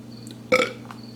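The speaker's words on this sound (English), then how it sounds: "Why I burp?" A single loud burp erupts midway through the short clip, a brief guttural belch that stands clearly above a quiet, steady room hum with nothing else around it.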